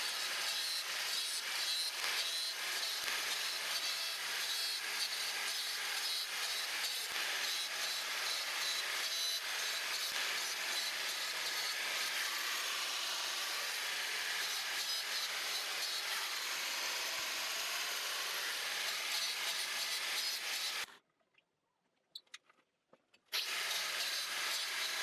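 Steady scraping and rubbing inside a Volkswagen oil passage during cleaning, a continuous close gritty rasp that stops abruptly near the end before a short resumption.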